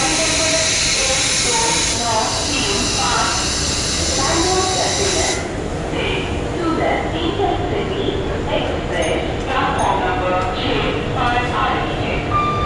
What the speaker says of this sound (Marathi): ट्रेन आपली आलेली आहे, इंटरसिटी एक्सप्रेस